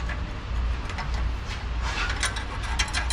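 A ratchet clicks steadily as nuts are tightened on an exhaust U-bolt clamp of a 2004 Nissan Frontier 4.0, in rapid continuous strokes, close and alone.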